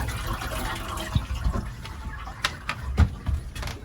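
A boat's shower drains while a 500-gallon-per-hour bilge pump runs, making a steady low rumble with soft gurgling and splashing water and a few sharp knocks and drips.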